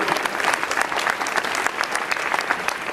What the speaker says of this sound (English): Catherine, a round of applause for you.